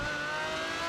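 A race car engine holds a high, steady drone at full revs, loud and close throughout a brief moment.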